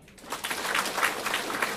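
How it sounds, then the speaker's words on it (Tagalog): Audience applause at a business opportunity presentation: a steady, dense wash of clapping that swells after a brief quiet start and holds loud and even, with no talking over it. "Palakpak."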